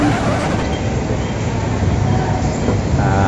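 An LRT2 light rail train in a Philippine station gives a loud, steady rumble with rolling wheel and car noise, continuous and close throughout.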